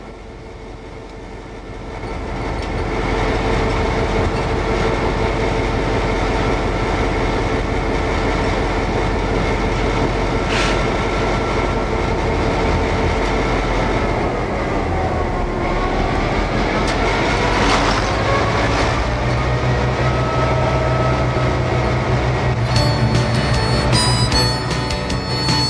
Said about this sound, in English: We're in Metra number 308, an EMD F7. We're going to make a run on the Illinois Railway Museum's main line.